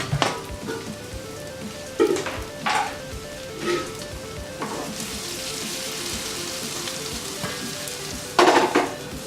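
Chopped onions and chili hit hot oil with pork frying in a pan, bursting into loud sizzling. Sharp spatters and stirring scrapes come at intervals over a constant close fry.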